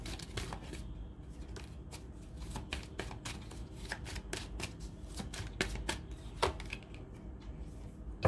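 A deck of tarot cards is shuffled by hand during a card reading. A close, steady stream of crisp riffling snaps and flicks carries on with no talking.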